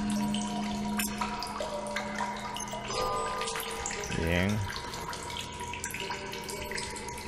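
Water trickles and drips inside a cave in the survival game The Solus Project, a steady watery hiss with bright drip tones and a brief sweep of game sound midway.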